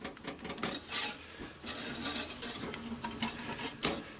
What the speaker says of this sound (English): And then this is what's called a roux in the French tradition. It's just the butter and the flour. We're going to mix it together.